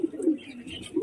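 Patnai Lotan pigeons in a home loft give soft, low coos, one short phrase near the start and another at the end, close by and moderately quiet with faint higher chirps between.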